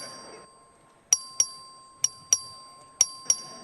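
Texas House clerk's vote bell in the chamber during a record vote: six sharp, ringing strikes in three closely spaced pairs, each decaying quickly, loud over a quiet room after a brief murmur at the start.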